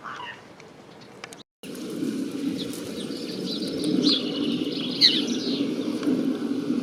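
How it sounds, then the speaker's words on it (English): A male house sparrow chirps from a small hedge on the first day of spring, bright short calls over a steady outdoor rumble, moderately close and partly masked by background noise. "That's a male house sparrow."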